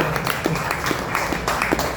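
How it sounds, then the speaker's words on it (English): Audience applause at a public event in Columbus, Ohio, a steady dense patter of many hands clapping throughout the brief moment. "I'll tell her the round of applause for her."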